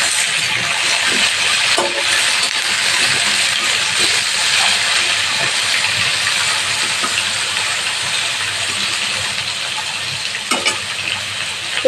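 Potatoes and sweet pumpkin fry in a pan for a drumstick mixed-vegetable dish, giving a loud, steady, hissing sizzle with no pauses and a few faint clinks, and no voices.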